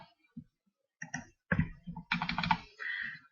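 Data being keyed into a computer keyboard, with sparse, close keystrokes at first that build into quick clustered bursts of clicky typing, all without speech.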